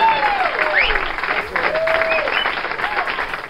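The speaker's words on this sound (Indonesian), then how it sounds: "Hoho, tepuk tangan." Applause and cheering from a small group during a podcast, a steady wash of clapping over the whole stretch with whoops and whistles rising through it.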